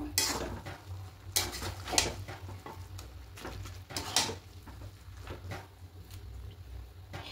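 A metal spatula stirs Gobindobhog rice kacchi biryani in a pot, giving irregular faint scraping clinks and taps against the pot, quiet and close over a low steady kitchen hum.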